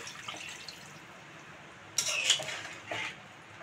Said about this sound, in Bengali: মশলা বাটি ধোয়া জলটা ছিল সেই জলটাকেও দিয়ে দেব।